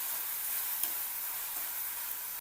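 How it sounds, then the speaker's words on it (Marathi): Onion and tomato paste sautés in a pan with salt and turmeric, an even, close hissing sizzle that carries steadily throughout with a faint stir. "कांदा लालसर होईपर्यंत परतायचं."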